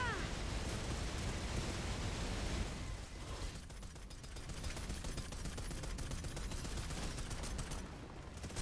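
Gunfire in the shooter game Snowbreak: Containment Zone, dense rapid bursts and a heavy roaring wash that eases slightly midway, with game effects layered over the shots.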